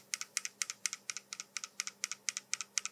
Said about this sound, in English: When you turn the Pocket 3 off and the gimbal locks into this position, you might hear some rattle inside the gimbal.